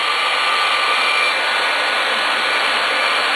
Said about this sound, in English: You could rest the blow dryer on top of the hair.